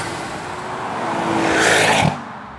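A Ford Focus RS500 with a 2.5-litre Volvo engine and reworked engine management roars, the engine note swelling as it draws closer and peaks, then cuts abruptly, with no talk.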